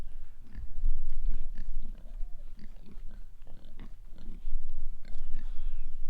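Pigs grunting and snuffling close by on a farm, a continuous busy mix of low oinks, chewing and rooting noises with no talk over it.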